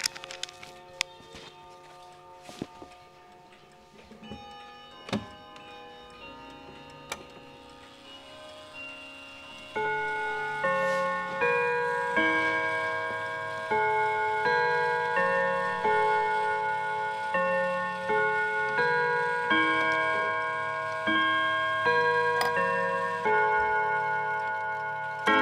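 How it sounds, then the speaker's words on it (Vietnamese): Astronomical pendulum clock with a floating gold dial, ticking steadily before its chime starts, then a long resonant melody of struck gong-like notes rings out repeatedly over the continued ticking. "Sau đây thì em xin được thử luôn cái tiếng chuông để gửi tới các bác."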